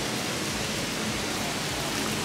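Steady rain outside Hay's Galleria in London, a dense, even hiss of falling drops that fills the whole clip with no pauses and no voices.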